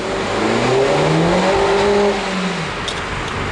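A loud supercar exhaust revs and roars in a tunnel, its pitch rising and falling in sweeping waves with a booming, enclosed echo, then fades slightly toward the end.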